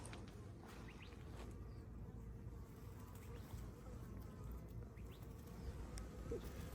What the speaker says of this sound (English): One right by your shoe. Yeah. A bee?